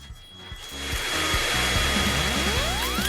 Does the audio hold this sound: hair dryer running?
yes